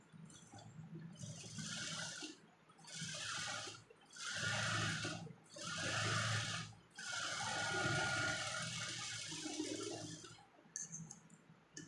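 A sewing machine stitches a navy blue printed designer blouse in five or six short whirring runs of one to two seconds each, separated by brief pauses, fairly close and moderately loud.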